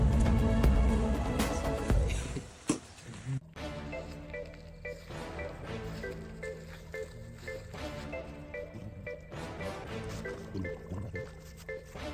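Rainwater drips and splashes at a hilltop campsite on Peacock Hill in Monaragala, Sri Lanka, with scattered close taps and trickles following an initial louder wet rush.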